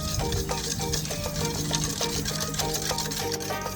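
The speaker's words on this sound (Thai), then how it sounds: "ตีให้ส่วนผสมเข้ากันนะคะ ให้แป้งละลายดีเลยค่ะ" A whisk beats a batter of rice flour, sugar and salt in a bowl, making a quick, steady run of rhythmic tapping and clicking that continues without a break.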